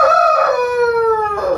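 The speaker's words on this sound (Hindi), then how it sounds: "ये काश्मीरी मुर्गा, इसको धूमर भी कहते हैं।" A Kashmiri rooster, also called Dhoomar, gives one loud, close crow that rises and then trails off, with no other sounds around it.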